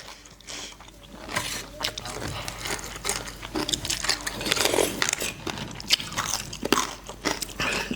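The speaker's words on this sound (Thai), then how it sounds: "เต็มปากเต็มคำแคบหมู" Someone bites and chews crispy pork rinds with crunchy mouthfuls, eaten alongside a spicy Thai seafood papaya salad. Close, irregular crackling crunches continue throughout.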